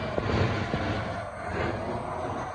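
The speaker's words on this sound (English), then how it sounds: "There's a plane going by." A fixed-wing airplane passes overhead near a workshop where a 1980 Freightliner cab-over truck is being stripped for bead blasting, its engine a steady broad drone filling the whole stretch with no talking.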